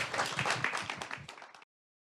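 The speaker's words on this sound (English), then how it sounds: "offering our amazing speakers one more round of applause" A short, moderately quiet round of clapping for panel speakers at a symposium, building briefly before cutting off abruptly.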